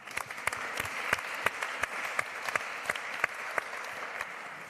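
A modest audience at a development cooperation event claps steadily, individual hand claps standing out sharply against a soft, continuous patter of applause.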